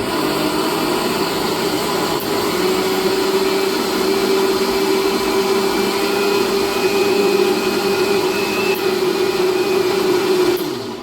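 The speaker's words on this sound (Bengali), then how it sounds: "এবার আমি চাল ডালটা বেটে নিচ্ছি।" An electric grinder whirs as it grinds soaked rice and lentils into idli batter, a loud, close, unbroken motor drone with a steady pitch throughout.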